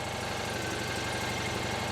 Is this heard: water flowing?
no